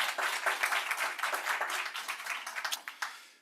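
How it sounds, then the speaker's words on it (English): A crowd at a board meeting applauds with dense, steady clapping that gradually thins out and fades toward the end. "give him a big round of applause"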